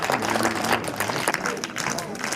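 An audience applauding to welcome performers onto a stage, brisk clapping from a crowd in a busy, slightly rough mix, with a voice speaking under it.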